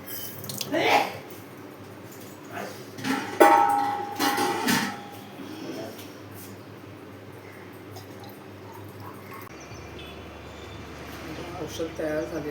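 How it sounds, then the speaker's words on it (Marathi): Hot water is poured into a baby's feeding bottle at home, giving a few short splashing and dripping bursts in the first seconds before a quieter, steady trickle. Background noise continues underneath. "मी इथे गरम पाणी ओतते बाबूच्या बॉटलमध्ये"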